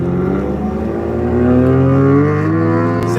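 A car engine, briefly warmed after sitting in the cold, revs with a loud, close tonal drone that swells and holds steady before easing back, sustained throughout with no talk.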